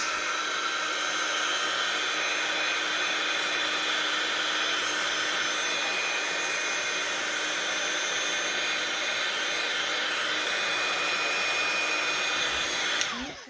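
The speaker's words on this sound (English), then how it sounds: "let me get a shot of air. Kind of dry that." A steady, loud blast of air from a blower used to dry an embellishment on a decorated journal page, continuous for about thirteen seconds and cutting off at the end, with no talking.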